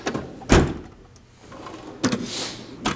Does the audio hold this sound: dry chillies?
no